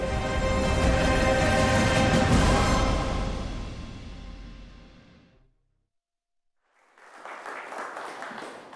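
A studio audience at an Indonesian talk show applauds in a loud, dense wash that gradually fades to silence, followed by a second, quieter burst of clapping.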